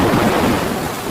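A steady rumble of thunder under the hiss of rain just starting to fall out on open water near a boat, loud and continuous without a break.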